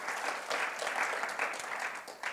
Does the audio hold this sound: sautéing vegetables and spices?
no